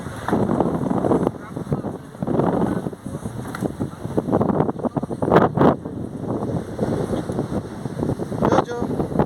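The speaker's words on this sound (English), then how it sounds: "It's a windy day today." Strong wind buffets the microphone at a beach, a rough, gusty roar rising and falling throughout, with surf-like rushing beneath and a voice talking over it.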